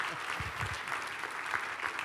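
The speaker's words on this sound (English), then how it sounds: "Let's have another round of applause." An audience claps steadily after a panel discussion at a policy event, moderate-volume applause with a faint low voice mixed underneath.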